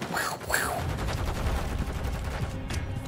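Rapid automatic gunfire from Call of Duty Modern Warfare 3 online multiplayer, a dense steady burst of shots running for about three seconds with a few brief higher whooshes near the start.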